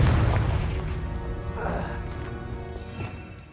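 A fire spell explosion in the video game Hogwarts Legacy booms loudly at the start, then rumbles and fades over a few seconds amid clattering game noise.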